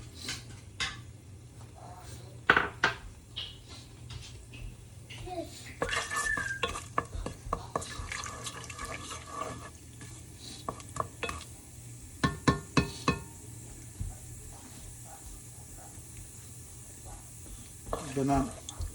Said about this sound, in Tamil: இப்போ இதில் நான் எடுத்து வச்சுருந்த கருவாப்பட்டை ஏலக்காய் பிரியாணியில் போடுறேன்